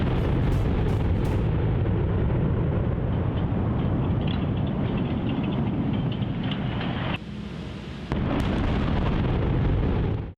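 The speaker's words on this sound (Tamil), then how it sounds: "அமெரிக்காவில் அணுசக்தி குளிரூட்டும் கோபுரம் ஒன்று நொடி பொழுதில் வெடிவைத்து தகர்க்கப்பட்ட காட்சிகள்" Explosive demolition of a nuclear power plant cooling tower in Hawthorne-area Tennessee, USA, heard as a long, loud roaring rumble of collapsing concrete lasting several seconds, briefly cut, then resuming before ending abruptly.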